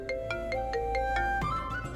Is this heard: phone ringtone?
yes